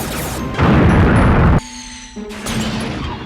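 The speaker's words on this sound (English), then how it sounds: "that little bitty thump that you did hear was a direct sound translation of the gravitational waves emitted by the collision of two black holes" Gravitational waves from two colliding black holes, translated into sound, arrive as a single loud, rumbling thump lasting about a second, followed by quieter tonal hum and a softer swell.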